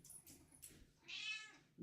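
Max, a black cat, lets out a single short meow near a microphone, clear but moderately faint amid light background noise, with a brief voice sound at the very end.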